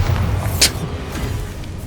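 A Bombarda explosion spell cast in the video game Hogwarts Legacy, a single short blast rising briefly out of a low rumbling background, moderately loud and alone.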